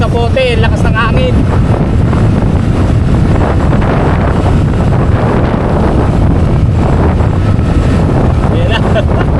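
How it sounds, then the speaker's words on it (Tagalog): Strong wind buffets the microphone in a constant loud roar, with a motor droning underneath and a voice briefly audible. "lakas ng hangin"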